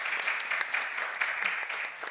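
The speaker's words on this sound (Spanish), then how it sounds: "podemos aplaudirlo ahora" An audience at a panel session on life projects and sport claps together in a steady, moderately distant round of applause that continues without pause.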